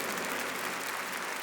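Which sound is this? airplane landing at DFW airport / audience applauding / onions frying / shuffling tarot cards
audience applauding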